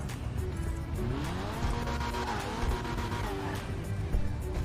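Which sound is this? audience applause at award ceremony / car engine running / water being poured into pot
car engine running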